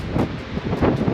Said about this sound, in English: It's pretty windy up here though.